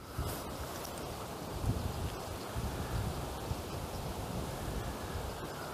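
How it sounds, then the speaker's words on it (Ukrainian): Strong wind blows across open water during a May fishing trip, a steady low roaring rumble with gusty buffeting against the microphone throughout, no talking. "Продовжує у нас дути сильний вітер."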